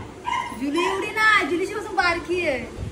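A young dog, the puppy of another household dog, gives a short run of high yips and whining barks, fairly close, mixed in with people talking throughout.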